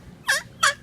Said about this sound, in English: We got birds by our table, parrots.